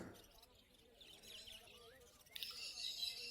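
Budgerigars for sale at the Garia bird market give faint, thin chirps and tweets over a low murmur of market background noise, fairly distant and soft throughout.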